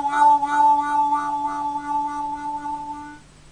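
A harmonica note bent so its pitch wavers, sustained with a slight pulsing wobble for about three seconds before stopping, played close and alone.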